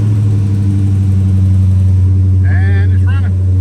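A 2022 Dodge Challenger Scat Pack V8 with a Procharger supercharger idles loudly and steadily up close, a deep constant rumble, with someone talking briefly over it near the end.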